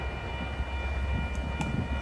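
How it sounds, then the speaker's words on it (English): A passenger train passing Eckley Pier near Crockett, California, bound for Oakland Jack London Square, heard as a steady broadband rumble and rail noise close by, with no horn or talk standing out. "there go that train going to the Oakland Jet London Square Station"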